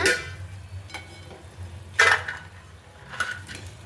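Small potato snacks cooking in a pan over a low hum, broken by a few clinks of a utensil scraping and stirring, with one louder scrape partway through.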